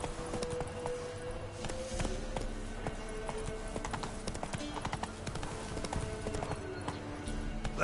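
In the video game Witcher 3, a horse gallops along with a steady, rapid clip-clop of hooves, close and continuous over a low background of game ambience.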